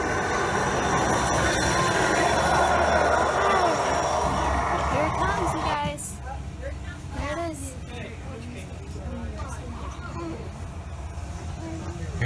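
A heritage passenger train on the Strasburg Railroad rolls steadily past at close range, its broad rumble and rattle loud through the first half, then easing off. Adults and children talk excitedly over the train.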